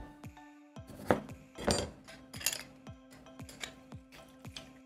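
A knife chops through food on a cutting board, giving a series of roughly regular, fairly quiet knocks against the wood beneath a faint steady kitchen hum.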